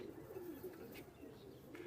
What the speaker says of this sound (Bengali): এই এক জোড়া এও কেটিএম কবুতর